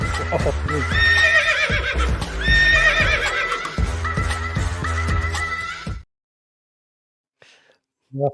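A horse whinnies loudly over quick clip-clopping hooves in a short transition effect that cuts abruptly to silence, followed by a faint blip and a brief closing sound.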